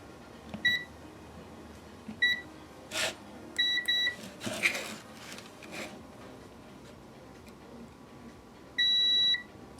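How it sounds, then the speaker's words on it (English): A multimeter in continuity mode sounds a series of short, clear electronic beeps as its probes touch solder joints on a battery pack. The tones come in separate bursts with pauses between them, and the final beep is held slightly longer. "Let's do a impedance test and just check continuity."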